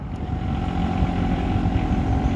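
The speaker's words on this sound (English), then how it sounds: "And there he goes, driving a good old American-built John Deere tractor." An American-built John Deere tractor hauling baggage carts across a train station platform gives a steady, fairly loud engine drone that runs unbroken throughout, with no talk.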